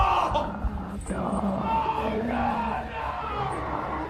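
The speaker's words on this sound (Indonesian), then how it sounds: "terdengar suara Dom yang teriak di luar sana." A man screams and yells somewhere outside in a film scene, heard as a dense, sustained roar of shouting mixed with rumbling ambience at constant loudness.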